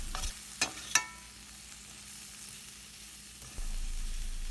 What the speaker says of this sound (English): Mix the powder gently with brinjal. Don't break the brinjal,